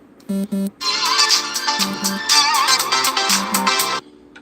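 A phone ringtone from an incoming call: short repeated electronic tones, then a bright, loud, melodic ringtone passage that plays clearly and steadily before stopping.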